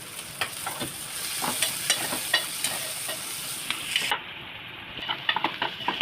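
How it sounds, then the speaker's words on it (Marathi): Onion and green chili frying in hot oil for paneer bhurji, a steady close sizzle broken by the repeated scrape and clink of a spatula stirring the pan. "आता त्यामध्ये कांदा घालायचा आणि मिरची कांदा मिरची तेलामध्ये परतून घ्यायचं"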